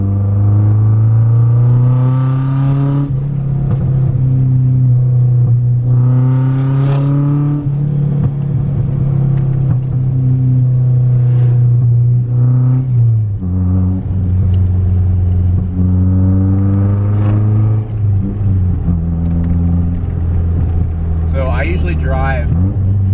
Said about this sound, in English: it backfires if you accelerate and even tap the gas.